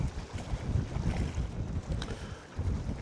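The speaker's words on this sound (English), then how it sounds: "It's a little breezy this morning and a little chilly, but not too bad at all." Breezy morning wind at Cod Beck Reservoir buffeting the microphone: low, rumbling gusts that rise and fall over a constant outdoor roar, with no speech.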